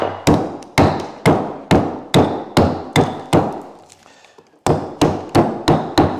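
Hatchet pounding a nail into a live-edge wood bowl blank at the lathe: a steady run of loud, sharp, close strikes, about two per second, with a brief pause midway before the blows resume.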